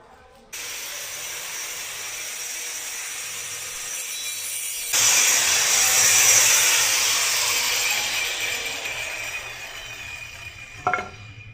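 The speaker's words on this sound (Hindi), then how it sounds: "ग्राइंडर चला के बताता हूँ।" A power grinder cutting pieces of wood outdoors in a garden, starting with a steady whine that jumps louder midway and holds a harsh, sustained roar, ending with a brief clunk.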